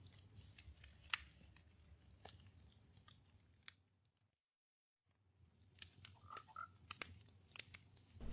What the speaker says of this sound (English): There's our frog friend we found earlier.